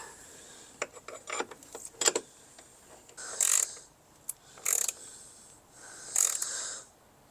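A ratchet threads a bolt back into a bracket on a Volkswagen Jetta, with a few scattered clicks and then three separate bursts of close, rasping ratchet strokes with short pauses between them.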